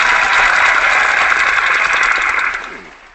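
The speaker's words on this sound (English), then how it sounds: "a round of applause." Participants in an online horn-players' hangout give a steady, dense round of applause that stays loud, then fades away over the last second.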